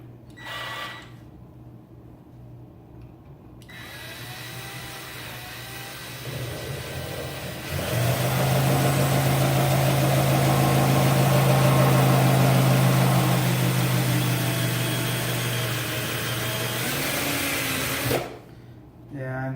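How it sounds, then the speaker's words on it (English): A motorized case trimmer cutter bites into 300 Blackout brass, moving from a low hum to a loud, steady grinding whir that holds for about ten seconds, then drops off, with someone talking under it. "once it starts getting to where that cutter starts grabbing that brass"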